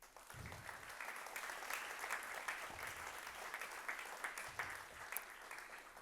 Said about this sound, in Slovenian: In temu seveda lahko zaploskamo.